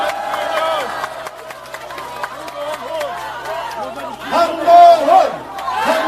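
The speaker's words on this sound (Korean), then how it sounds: "우리 한동훈 위원장님께 다시 뜨거운 박수" A crowd at an outdoor Korean election rally for Han Dong-hoon chants and cheers in a dense, continuous mass of voices, with a louder surge of shouting near the end.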